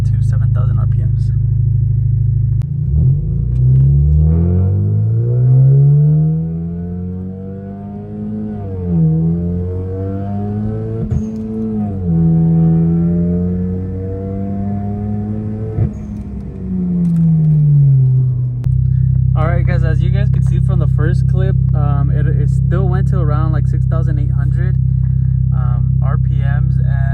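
A 2013 Hyundai Genesis Coupe 2.0T is driven hard, its turbocharged four-cylinder climbing through the revs with rising and falling engine tones, loud and close from inside the cabin, then dropping to a steady drone.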